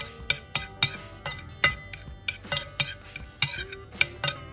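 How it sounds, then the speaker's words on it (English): Barbecue seasoning for spareribs being mixed in a bowl, a rapid series of sharp metallic clinks and taps of a utensil against the bowl, close and rhythmic. "Now we will mix it all together."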